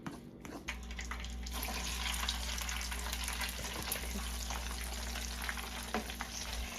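Soda-based fish batter bubbling and sizzling in a steady, close hiss while it is stirred, with a low hum underneath and no talking.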